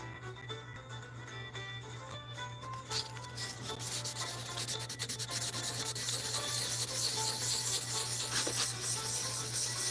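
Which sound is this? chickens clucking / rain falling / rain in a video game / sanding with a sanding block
sanding with a sanding block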